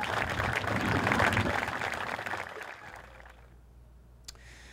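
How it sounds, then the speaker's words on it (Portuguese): Mourners at a burial give a round of applause for a glazier who died after a hospital incident, a dense, fairly loud clapping outdoors that dies away after about three seconds, leaving quiet ambience and one faint click. "Matheus foi enterrado por volta das 2 da tarde com uma salva de palmas"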